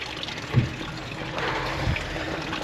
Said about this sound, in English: the grey water's emptying